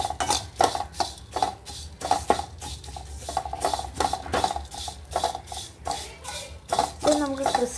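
A spoon scrapes and stirs flattened rice (aval) roasting crisp in ghee in a pan, giving repeated close rhythmic scraping strokes with light clinks of metal on metal.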